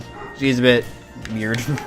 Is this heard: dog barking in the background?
yes